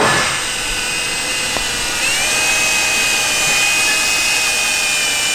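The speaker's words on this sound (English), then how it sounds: "Make sure I drill straight." A power drill whines steadily at high pitch while boring into a metal camshaft from a Porsche 964 engine, continuous and close, with a slight pitch shift midway.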